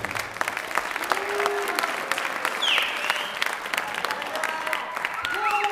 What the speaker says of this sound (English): Please give another round of applause for all these guys